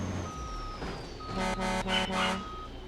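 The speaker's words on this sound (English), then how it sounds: "Beeping at the fire truck to watch out, and he's going to back out of the way here." Several short horn-like beeps sound in quick succession in the BeamNG Drive game, warning a fire truck at a monster truck event, over a steady engine hum.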